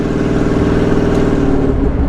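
A car engine drones steadily at about 55 mph and 2,500 RPM on a highway, with constant road and wind noise, loud and unbroken throughout.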